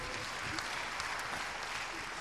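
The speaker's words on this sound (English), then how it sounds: "Can we give another big round of applause?" Conference attendees at an international quality education event give a sustained round of applause, a dense even patter of many hands, moderately faint and with no clear speech over it.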